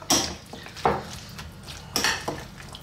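A spoon stirs an avocado nacho salad mixture in a bowl, producing a few distinct clinks and scrapes against the dish with soft mushy mixing between them, close and fairly quiet.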